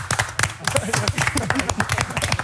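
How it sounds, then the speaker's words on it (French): A few people clap for a biathlete during a quarantine interview, giving sparse, distinct individual claps in an irregular rhythm, close and fairly loud, with talking over them. "vous n'avez que quelques applaudissements"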